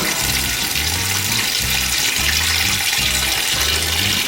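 Water runs steadily into an Aquael Hypermax 4500 BT canister filter for a 450-litre aquarium, a continuous gushing pour with a rhythmic low gurgle repeating underneath, with no talking.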